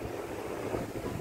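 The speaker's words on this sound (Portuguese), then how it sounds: "tá muito vento" Strong wind buffets an outdoor microphone, producing a steady low roar and rumble that stays loud and unbroken, with no voices.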